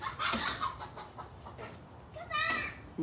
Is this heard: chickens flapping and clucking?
yes